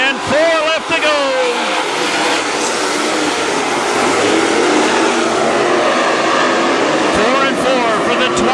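WISSOTA modified race cars roar around the Granite City Speedway track in a dense, continuous engine din, with revving cars sweeping past up close and whining as they go by. A track announcer talks over the racing.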